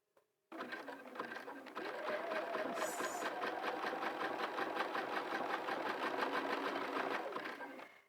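A sewing machine stitches cord onto a hat, starting with a short burst and then running in a steady, rapid mechanical rattle for several seconds before it slows and stops. It is close and clear, with no talking.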